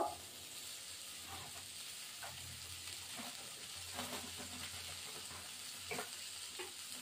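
Radhuni seeds tempering in hot oil while bata fish curry with jackfruit and potato is being made, a steady close sizzle with soft crackles and occasional stirring scrapes, no voices.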